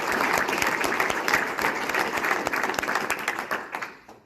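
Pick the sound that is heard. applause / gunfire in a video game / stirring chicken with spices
applause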